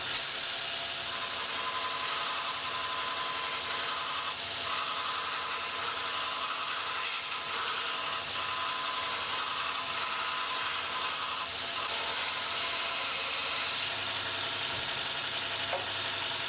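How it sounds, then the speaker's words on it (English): A Robert Sorby Pro Edge grinder runs continuously as a woodturning tool's bevel is ground to an even angle. It makes a steady, loud, noisy whir with faint ringing tones and no speech. "So with this we would carry on grinding to get an even bevel."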